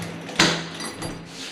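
A door leading out to a house's pool is opened with a sharp latch click and a brief rush of air, followed by softer rattling as it swings, close by.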